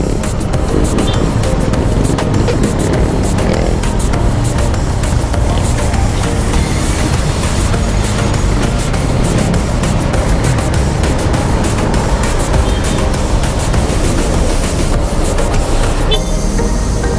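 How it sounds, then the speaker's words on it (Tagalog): Loud, continuous road traffic on a congested street with no stoplight, a dense rumble of engines and passing vehicles heard up close from a rider's position, steady throughout with no speech. "Traffic na naman."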